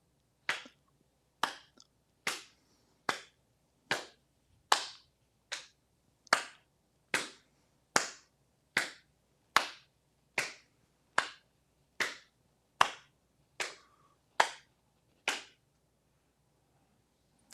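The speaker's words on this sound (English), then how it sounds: "this is the one where we touch the hands on the top, then clap your hands on the bottom behind you" Sixteen sharp hand claps at a steady rhythm of about one per second, close and crisp with short decays, made during a tai chi exercise for people with limited mobility as the hands come together low behind the back; no voices.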